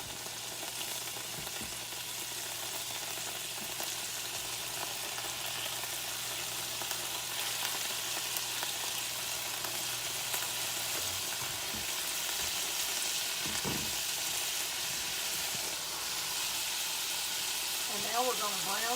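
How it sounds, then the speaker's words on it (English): Beef browning in a hot skillet as a second batch goes in, a steady broadband sizzle and crackle of frying filling the whole stretch with occasional stirring clatter, no talk over it. "we're going to go ahead and add our second batch of beef"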